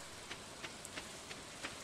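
Rain falls in the farming game Stardew Valley as a faint, steady hiss, with soft, evenly spaced droplet ticks and no talking over it.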